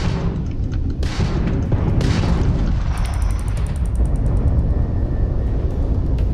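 A spaceship in the Starfield video game takes fire: a heavy, continuous engine rumble punctuated by dull impact booms roughly once a second, loud and close, with no talking.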